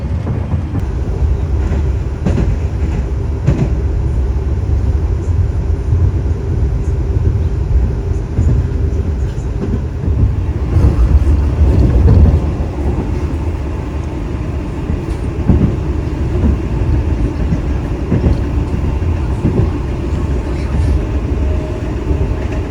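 A KRL commuter train speeds past the Jaka Tingkir economy train near Bekasi, producing a loud, steady rail rumble with clattering wheels and a sharp surge partway through, heard from on board.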